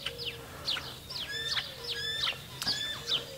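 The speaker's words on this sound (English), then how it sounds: "what we have here is a female house sparrow" A female house sparrow held in the hand gives a run of about eight short, bright chirps in an uneven rhythm, close and clear above a low hum.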